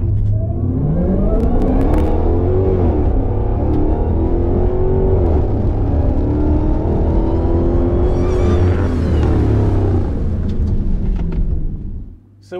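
A 500-horsepower Dodge Hellcat on its black key launches and accelerates hard through an eighth-mile run, a loud close engine roar rising through several gear shifts before cutting off abruptly at the end.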